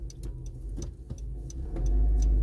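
A ten-year-old Honda Civic with failing air conditioning drives along, its low engine rumble and road noise steady, then swelling louder near the end, with a few faint ticking clicks scattered over the drone.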